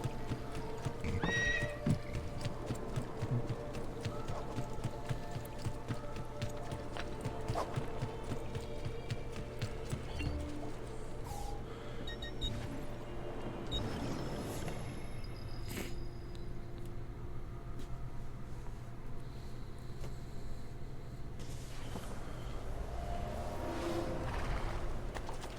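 In the Assassin's Creed 2 video game, a horse's hooves clip-clop steadily across the ground, with occasional whinnies and neighs ringing out over faint game ambience and music.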